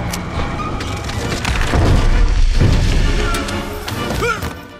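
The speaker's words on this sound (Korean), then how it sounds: "총소리와 함께 풍선들이 터지죠." A loud burst of crashing and popping as a gunshot bursts balloons in an animated film scene, busy and chaotic, with sharp bangs over rumbling noise and a few brief voices.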